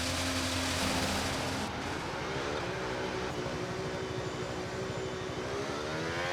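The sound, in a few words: race car engine starting up in video game F1 26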